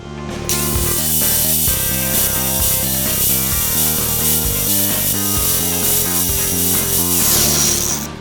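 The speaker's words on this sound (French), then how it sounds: "on va passer un coup de meuleuse ici pour qu'il y ait une surface propre, pour pouvoir souder la plaque qui va venir dessus" An angle grinder smooths cut metal to prepare a clean surface for welding on a plate. It gives a loud, steady, harsh grinding hiss that runs unbroken for about eight seconds, with no talking.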